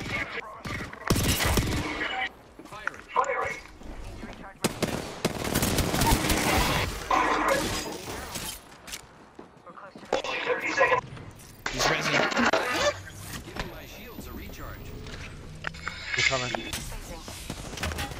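Gunfire crackles through an Apex Legends match in repeated bursts and rapid volleys, some close and loud, others more distant, mixed with scrapes and players talking over the action.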